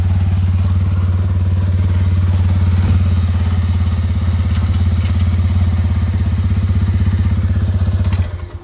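A TVS Apache BS6 motorcycle with its side stand sensor bypassed runs at a steady idle, its close, loud, even rumble holding for about eight seconds before it cuts off.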